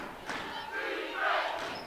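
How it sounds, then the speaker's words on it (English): A high school boys' basketball crowd at a regional tournament game chants defense, a faint, distant rhythmic mass of voices echoing through the gym. "the defense chants now come from the Dubois side of the crowd"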